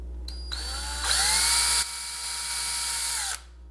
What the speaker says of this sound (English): I'm going to just go ahead and drill some pilot holes here.